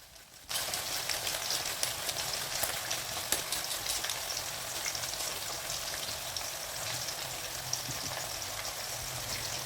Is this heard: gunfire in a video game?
no